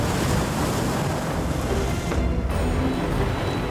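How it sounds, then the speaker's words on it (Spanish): Mediterranean sea waves crashing and rushing in a loud, continuous roar, heavy wind buffeting close by, with no voices. "Lo más probable es que una ola rompiera sobre el barco"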